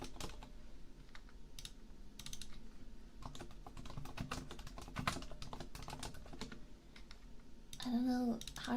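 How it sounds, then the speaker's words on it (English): Rapid typing on a computer keyboard, close and crisp with irregular clusters of key clicks and brief pauses, followed by a short stretch of speech. "How is the typing? Is it loud?"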